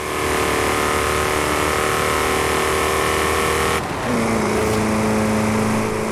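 Opel Calibra engine and exhaust revving steadily and loud in Forza Horizon 5, a sustained tone that breaks off briefly near the four-second mark and resumes at a lower pitch as a gear shift.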